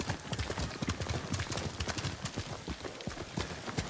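Horse hooves gallop in the video game Ghost of Tsushima, a fast, steady clip-clop that stays close and loud throughout with no voices over it.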